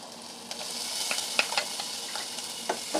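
Onions and curry leaves fry in a pan, a steady close sizzle broken by sharp clicks and scrapes of stirring, with no voices.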